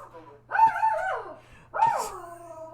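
A dog gives two drawn-out whimpering, whining yelps in a room, each rising then sliding down in pitch, close and fairly loud with a short pause between them.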